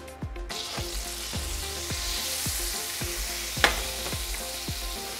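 Butter sizzles in a heated frying pan, a continuous bright crackling hiss with one sharp click, while a regular pattern of plucked tones repeats in the background.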